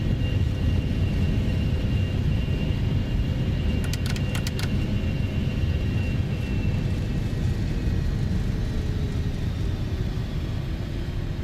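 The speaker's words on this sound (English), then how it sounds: "Reversers and spoilers. Reverse is active." A Gulfstream 550 business jet in the X-Plane 12 flight simulator applying engine reverse thrust after landing: a steady, loud, broadband engine roar with low rumble that holds evenly throughout, with brief clicking near the middle.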